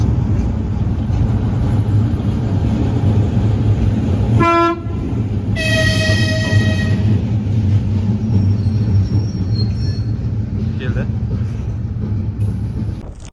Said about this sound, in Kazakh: Көріп тұрғандарыңыздай барлығы отыратын вагондар Қарағандыдан таң ата шығады екен, Астанаға келеді екен.